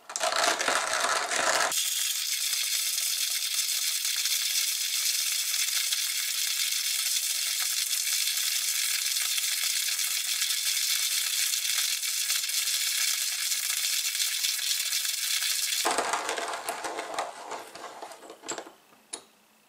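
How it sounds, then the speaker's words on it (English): A JavaPresse manual burr coffee grinder crushes coffee beans in a steady, dense gritty grinding that runs unbroken for about fourteen seconds, loud and close, then trails off into softer scattered crunches. "So let's go ahead and grind this up really quick."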